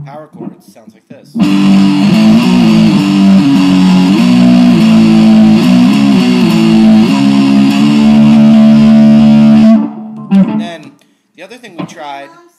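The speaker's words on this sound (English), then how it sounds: "power chords, sounds like this." An electric guitar plays distorted power chords during a lesson, a loud, dense, sustained buzzing of chords that shift pitch for about nine seconds, with a person talking briefly before and after.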